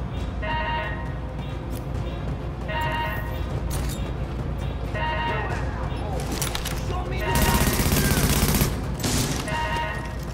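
Gunfire in the video game The Division, repeated bursts of automatic fire and shots in rhythmic volleys with a louder crash of shooting near the end, steady and close, with a voice talking over it.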